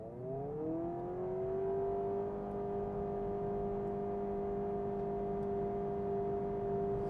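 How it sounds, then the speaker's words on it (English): Interior of a 2026 Honda Prelude during a full-throttle launch from a standstill with the brake held. A humming engine drone rises in pitch for the first second or two, then holds at a steady, moderate level with no talking. "So that requires a full throttle start with the brake pedal depressed."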